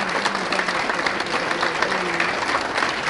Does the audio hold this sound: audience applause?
yes